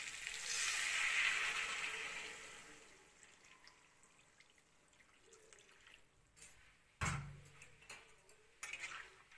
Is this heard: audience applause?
no